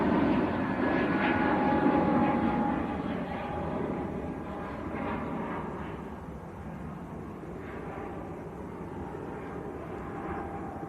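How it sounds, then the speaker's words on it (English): An EasyJet Airbus A321neo jet departing Manchester Airport for Paris Charles de Gaulle, its steady engine roar loudest at first and then easing to a softer, continuing rumble. "EasyJet's A321 Neo. That is going to Paris Charles de Gaulle"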